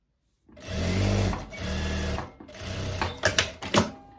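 A sewing machine runs in steady bursts while stitching a rounded dress neckline, its motor humming continuously with brief pauses and a few sharp clicks near the end; no voices.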